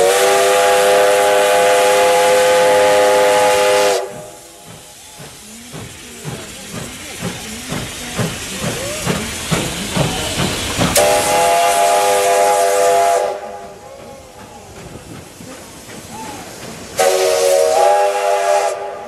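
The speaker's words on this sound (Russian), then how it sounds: "Это паровоз." A green steam locomotive sounds a loud, sustained steam whistle, breaks off into rhythmic chuffing and hissing steam, then sounds the whistle again twice, with no talking.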